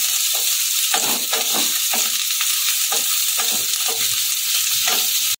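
Chilli garlic prawn noodles with carrot being stirred and fried in a pan: a loud, continuous close sizzle with repeated scraping strokes of a spatula at an irregular rhythm, and no voices.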